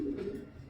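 Young pigeon giving a single short low coo, close and soft, lasting under a second.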